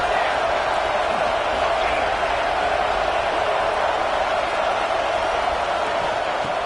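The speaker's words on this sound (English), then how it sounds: "this crowd coming to life here trying to help the defense get a stop with the offense pinned" A steady, roaring stadium crowd at a football game, a dense wash of noise that holds at one level from start to finish as the fans urge on their defense.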